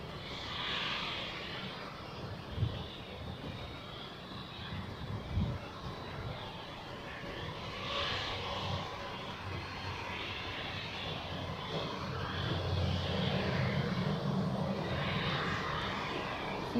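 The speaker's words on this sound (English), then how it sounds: "we are waiting for the Edelweiss A320 to Corfu to take off, and here we go" An Edelweiss Airbus A320 takes off at Zurich Airport, a sustained jet engine roar that builds gradually toward the end, loud and without speech.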